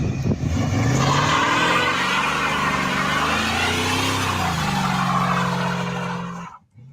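A 1972 Dodge Coronet with a 318 V8 revs up close and loud, its engine note rising and falling through several throttle blips before cutting off abruptly.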